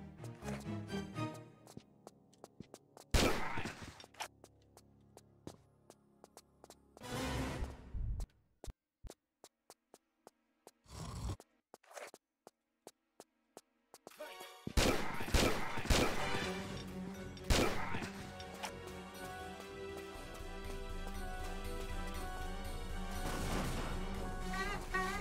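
Gunfire in the video game Tomb Raider 3 Gold, heard as sharp bursts and loud crashing hits broken by quiet gaps, then a dense, sustained stretch of layered game sound and music.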